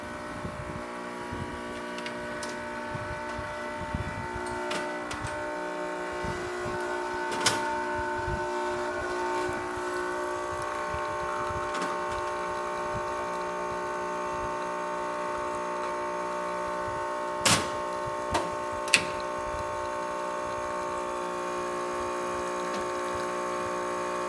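A Quickmill Andreja espresso machine, just back from a full tune-up with a replaced heating element, pulls a test shot: a steady pump hum with tonal whine, a faint trickle and a few sharp clicks.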